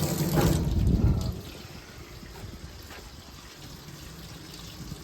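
Water runs from an old foot-pedal sink in a poultry processing setup, a fuller gush for the first second or so, then settling into a quieter steady trickle with no talking.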